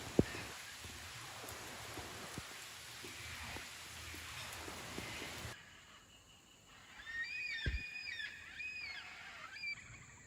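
Heavy monsoon rain in an Australian rainforest hisses as a dense, steady wash for several seconds, then gives way to a quieter, wetter scene with scattered bird calls over the dripping background.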